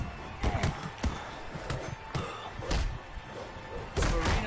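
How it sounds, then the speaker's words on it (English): Hard boxing punches land on an opponent as a series of dull, heavy thuds at an uneven rhythm, with crowd noise and commentary underneath. "Sparino slams hard into his opponent."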